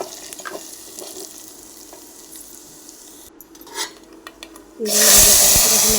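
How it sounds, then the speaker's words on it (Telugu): Prepared spice masala for pepper rasam drops into a hot pan, starting with quiet clinks and stirring and then breaking into a loud, steady sizzle near the end. "ముందుగా ప్రిపేర్ చేసిన మసాలా అయితే వేస్తున్నాను ప్లీజ్ దీన్ని బాగా మగ్గనివ్వాలి వేగనివ్వాలి"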